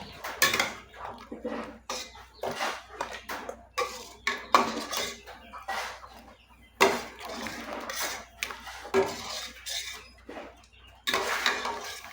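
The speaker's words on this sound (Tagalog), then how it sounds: "hugasan natin ito ng tubig" Dishes and metal pots clatter and clink repeatedly while water splashes as pork ribs are washed, with busy kitchen handling sounds coming in uneven bursts.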